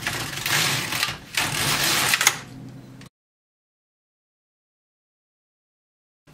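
An LK150 knitting machine carriage is pushed across knitting rows, giving two or three rough sliding passes with clacks, then a long silence.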